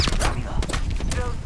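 Rapid video-game gunfire crackles in dense bursts, loud and close, mixed with busy game noise and overlapping voices.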